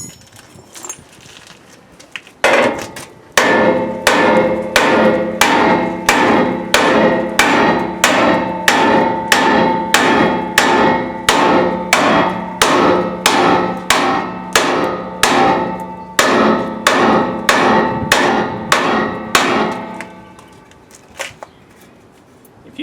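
Repeated metal hammering on a trailer under repair, about two dozen loud, evenly spaced ringing blows for roughly seventeen seconds, with a few scattered knocks before and after.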